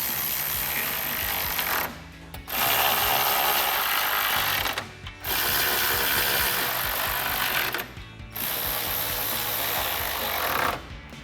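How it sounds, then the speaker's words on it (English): A ratchet with a 10mm socket tightens headlight bolts on a 2019-2023 RAM 1500, giving rapid, continuous clicking in long runs. Three short pauses break the clicking, and the sound is close and loud with no speech. "we'll grab our 10mm socket to tighten all of these down"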